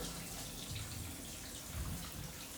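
Cold water gushes steadily from a tap, a constant close hiss and splash with no talking.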